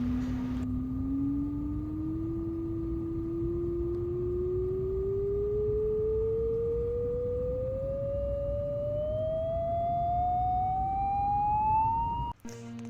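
A pure sine tone from an online tone generator sweeps steadily upward in pitch over about twelve seconds, loud and continuous with a faint higher overtone, cutting off abruptly near the end.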